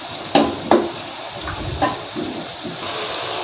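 Ground dried coriander, garam masala and red chillies cooking in a pan, a soft sizzle punctuated by a few sharp clinks and stirring scrapes, with no talking.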